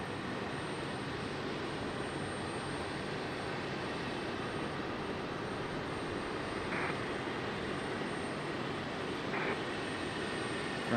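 Airliners arriving and departing at Raleigh-Durham International Airport, a steady distant jet engine roar that holds evenly throughout without voices.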